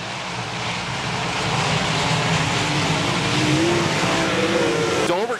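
360 sprint cars race at Park Jefferson Speedway in a loud, continuous engine roar. Several engines are audible at once, and their pitches rise and fall as the cars pass and slide through the turns. No one speaks.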